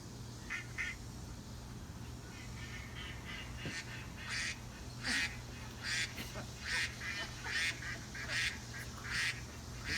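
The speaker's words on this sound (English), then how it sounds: "Those are the ducks, yes." Several ducks quack in a recording, a string of short nasal calls, some doubled, repeating in a loose rhythm over a low steady hum, moderately faint and without speech.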